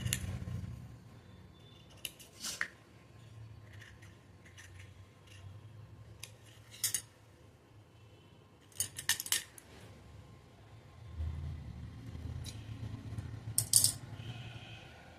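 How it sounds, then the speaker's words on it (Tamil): Scissors snip through old saree fabric in short separate bursts of crisp cutting, with faint handling rustle and low room hum between the cuts. "இப்போ இந்த ஷேப்பை வந்து நான் கட் பண்ணிக்கிறேன்."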